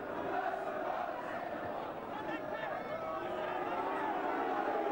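Football stadium crowd of just under 18,000 at a First Division match between Swansea City and Nottingham Forest, a steady dense roar and murmur of many voices with rising chants, loud and continuous throughout.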